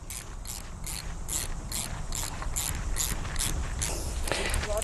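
An earth clamp on an electric fence earth rod is tightened with a ratcheting tool, giving a steady run of evenly spaced metallic clicks, close and moderately loud.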